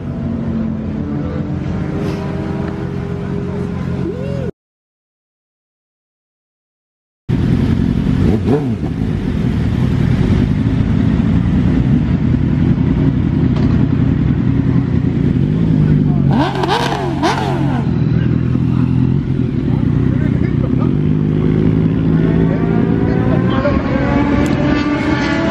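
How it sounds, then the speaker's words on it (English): A motorcycle engine revs and roars close by at a track day, loud and continuous, with rising and falling pitch sweeps, a short gap of silence early on, and people talking over it. "This is our motorcycle."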